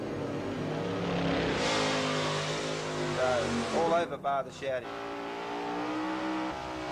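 A Super Sedan drag racing car at the 1990 ANDRA Winternationals eases off and slows, its engine a loud rasping roar that tapers with sputtering bursts as an announcer talks over it.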